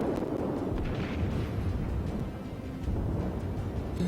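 Naval cruiser guns firing in World of Warships, a Soviet tier 3 premium cruiser, heard as a dense, continuous rumble of booming salvos and explosions, loud and steady throughout.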